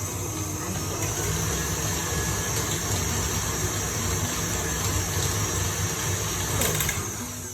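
An electric whisk runs steadily through Christmas cake batter, a loud, even whirring drone held for the whole stretch without a break.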